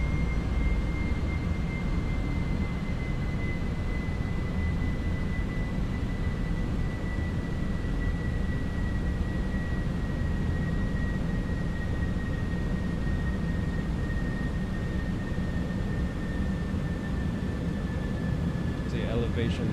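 An Airbus A321 jet engine spools down in a flight simulator game: a steady, moderate roar carries a thin whine that glides slowly lower throughout, continuous and unbroken.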